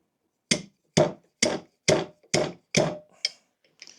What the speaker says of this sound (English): we'll get the hammer, the slide part of it, slide hammer bit